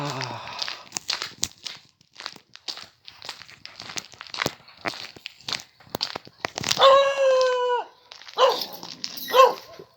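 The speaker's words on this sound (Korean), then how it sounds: "누구 보고 짖는 거야, 응?" A dog barks outdoors in cold weather: a couple of close, sharp barks near the end, after shuffling footsteps and crinkling. Someone speaks throughout.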